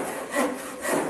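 A hand saw cuts through wood in steady back-and-forth strokes, each pass a rasping scrape that swells and fades, close and loud, with no voices.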